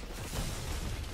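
A grenade blast in a competitive shooter video game, a single loud, broad rumbling explosion that fills the short moment with dense noise.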